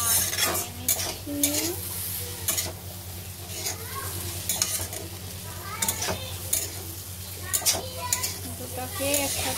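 Rice and fried egg are stirred together in an oily pan, with a loud continuous sizzle and repeated scraping, clinking spatula strokes against the metal, close up and with no speech.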